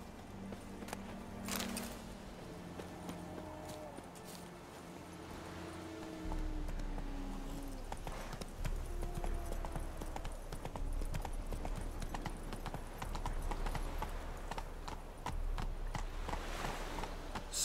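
Roach the horse's hooves clip-clop steadily across ground in The Witcher 3, a rhythmic beat under game music and ambient wind, with occasional speech-like murmurs.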